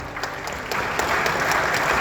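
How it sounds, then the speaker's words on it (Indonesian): Audience applause at an Indonesian televised talk event, a steady wash of many hands clapping that swells slightly louder midway and continues through to the end. "Kita tepuk tangan."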